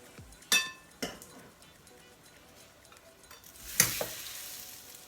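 Egg-soaked bread fries in hot oil in a pan, a faint low sizzle punctuated by a few sharp clinks and thuds of utensils and dishes, quiet and close.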